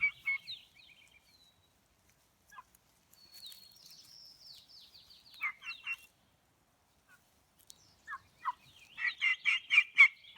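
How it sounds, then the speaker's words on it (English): Wild turkeys in a backyard gobble in scattered bursts, with quiet gaps between calls and a louder, rapid run of gobbles near the end. "Have you seen wild turkeys in your backyard?"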